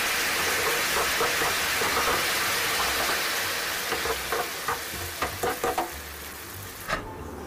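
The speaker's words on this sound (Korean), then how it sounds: "양념장이 자작하게 될 때까지 앞뒤로 졸여줍니다." Steady bubbling sizzle of tofu simmering in a pan of sauce, reducing, with occasional soft pops and clicks rising above the constant hiss.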